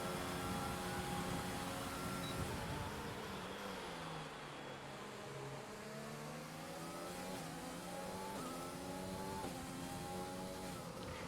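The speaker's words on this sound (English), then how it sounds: "Actually, I figured out why the engine sounds weren't working, I think." Several race car engines from a league race in a racing video game, set at the Netherlands round, drone and rev continuously with rising and falling pitch as the cars accelerate and shift, loud and steady throughout with no talking.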